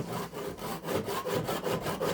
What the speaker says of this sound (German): Ich werde es jetzt einfach mit der Japan-Säge